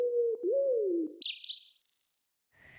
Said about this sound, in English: Random spotting sounds were also added, like birds and insects for the forest.